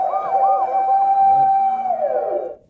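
A person's voice imitates a wailing emergency siren during a variety show game, producing a loud, close, steady rising-and-falling tone that slides downward and cuts off after a few seconds, with no other talking.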